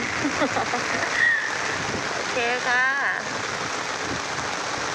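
Heavy rain pours down at a fishing pond in Samut Prakan, Thailand, as a steady, loud, even hiss throughout, with a brief spoken word and some chirpy sounds over it.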